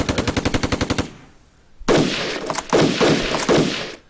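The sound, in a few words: gunfire from a video game, defensive fire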